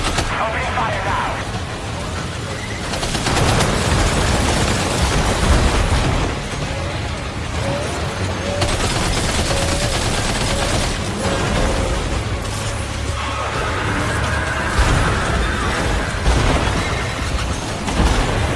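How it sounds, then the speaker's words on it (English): Gunfire and explosions in the video game Death Stranding 2, dense repeated loud bursts and booms over a rumbling battle din, continuous and close throughout. "Opening fire now."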